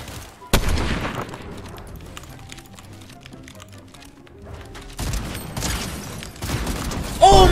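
A shotgun fires in a video game: a sharp loud blast near the start, then a dense volley of shots in the last few seconds, with busy game effects in between.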